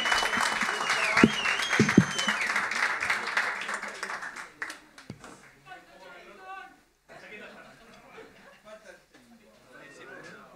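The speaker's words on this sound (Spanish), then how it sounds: "Aplauso para Los Pailitas." Audience applause at a jazz festival concert, loud clapping with cheers and laughter in the first seconds, then fading into scattered claps and chatter.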